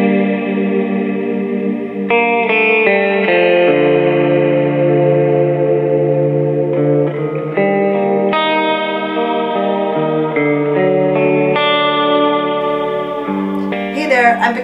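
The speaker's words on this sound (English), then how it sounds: "It's a huge modulated reverb, and it makes your guitar sound like it's riding an asteroid through space." Electric guitar chords ring out through a Jack Deville Electronics modulated reverb pedal, lush and shimmering, long washy tails blending each change into the next, with a brief brighter flourish at the end.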